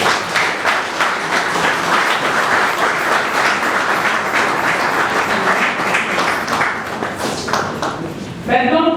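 An audience at a ministry event bursts into sustained, dense applause that continues loudly for most of the stretch before tapering off near the end.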